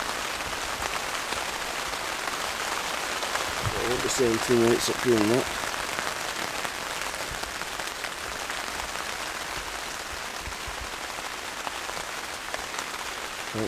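Steady patter of rain falls throughout while someone talks briefly over it, with a short squeaky sound in the middle.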